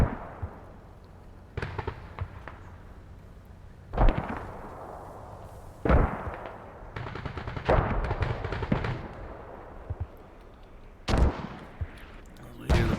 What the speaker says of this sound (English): We hear the BMP shooting.